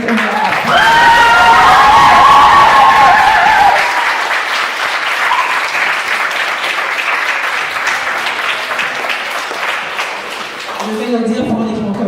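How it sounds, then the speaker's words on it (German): A large audience applauds loudly and steadily for about twelve seconds, the clapping swelling early and then holding as a dense, sustained roar, with a voice starting to speak near the end. "sie verdient unser Applaus."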